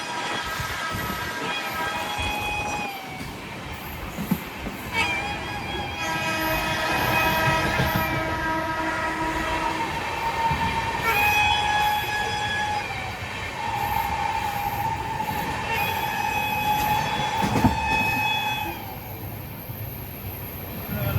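Train number 13017, the Ganadevta Express with new LHB coaches, rolls steadily on the main line with a continuous rumble, as a loud locomotive horn sounds in several long blasts.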